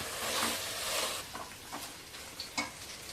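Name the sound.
meat sautéing in oil with garam masala and chili powder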